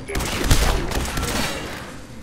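Rapid rifle gunfire from Fallout 4 rattles in a dense, sustained burst up close, a heavier report near the start followed by continuous crackling shots for about two seconds.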